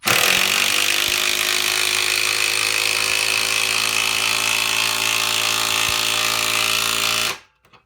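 A Milwaukee M12 Fuel 3/8-inch impact wrench, model 2754, drives a lag screw in one continuous loud hammering burst lasting about seven seconds, close up, then stops abruptly.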